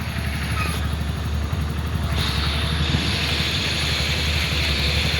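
A motorcycle runs steadily on a road under construction, its engine giving a dense, continuous close-up rumble with wind noise and no speech.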